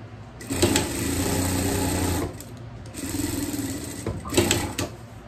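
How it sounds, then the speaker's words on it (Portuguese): A sewing machine stitches a seam on a small dress for a pet, running in two steady close bursts separated by a brief pause. "Passar uma costura aqui."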